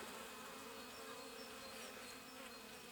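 Honeybees buzzing steadily at an alpine-style beehive during the first spring work at an apiary, a dense, continuous close-up drone with no pauses or voices.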